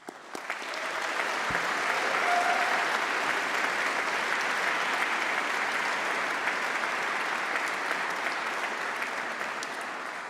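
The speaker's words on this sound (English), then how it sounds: "let's give a huge round of applause, please, and a big cheer" A graduation ceremony audience applauds and cheers, a dense, sustained wash of clapping from a large crowd that swells quickly and holds for about ten seconds before easing slightly.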